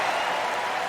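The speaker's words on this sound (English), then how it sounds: "And the fans are cheering" Dense, steady crowd cheering and applause from fans at a US Open tennis match, a continuous loud wash of noise throughout the brief moment.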